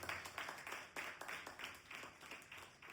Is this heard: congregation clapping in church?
yes